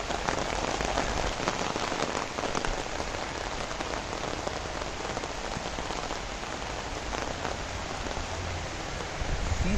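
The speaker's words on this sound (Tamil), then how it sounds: "வாவ் செம மழை." Heavy rain pours steadily onto surfaces, a dense, even hiss of countless drops that stays loud and unbroken throughout with no voices.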